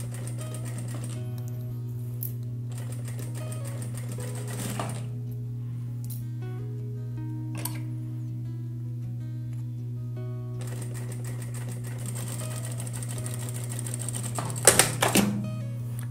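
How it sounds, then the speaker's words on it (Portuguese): A sewing machine stitches fabric scraps for a DIY boxy zip pouch, running a steady, continuous whir with a strong hum. A brief clatter comes near the end. "Agora eu vou passar a costurinha, ó, desse lado de cá e do outro lado."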